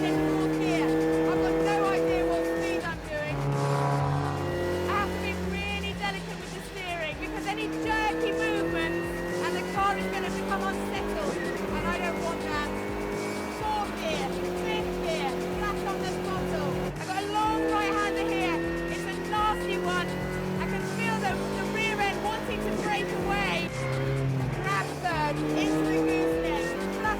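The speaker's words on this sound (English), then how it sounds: "Onto the brakes, down to 4th, off the brakes, turning in 4th gear." A hot hatch laps a race track, its engine revving up and down through gearshifts with braking and cornering, loud and continuous beneath a driver's steady commentary.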